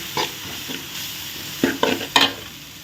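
Chilli powder being stirred into a frying egg side dish for chapati, with a spatula scraping the pan in a few distinct strokes over a soft sizzle, close up and with no talking.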